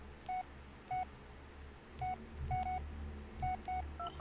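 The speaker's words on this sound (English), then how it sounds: "I have to call voicemail." A phone keypad dials voicemail in the game Blair Witch, with short, clean DTMF tones beeping in uneven bursts over a quiet background.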